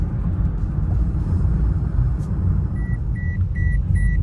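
A repeating electronic seatbelt warning beep in a 2023 Toyota Yaris 1.2 Premium chimes four times at a steady rhythm over a loud, continuous in-car road rumble.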